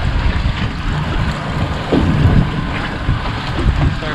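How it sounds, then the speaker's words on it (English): Strong wind buffets the microphone over open water off Mexico, a continuous rushing roar with low gusty rumbles and swells rising and falling, no talking. "Windy, starting to calm down a little bit"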